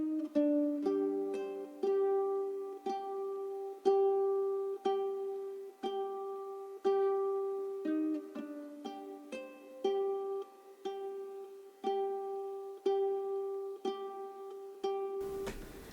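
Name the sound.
Toro guitar part, main melody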